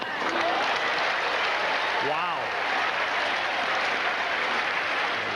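Tennis spectators applaud and cheer in a steady, dense wash of clapping at a 1990 US Open quarter-final between Sampras and Lendl, the crowd noise continuous and lively while a commentator speaks over it.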